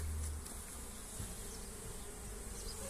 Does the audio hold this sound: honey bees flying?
yes